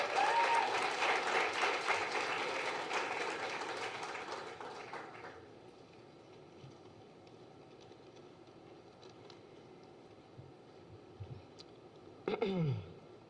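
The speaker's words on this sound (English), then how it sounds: "So please give him a warm round of applause." Applause from the audience at a medical college anatomy donor memorial service greets a student poet, starting strong and fading over about five seconds into a quiet room with faint scattered noises.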